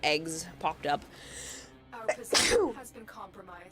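A person sneezes once, sharp and close, around the middle of the clip, surrounded by game voice lines and someone speaking.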